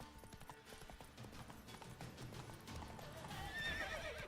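Roach the horse gallops in The Witcher 3, a rapid, rhythmic clip-clop of hooves continuing throughout, joined near the end by a sharp whinny, with game sounds beneath.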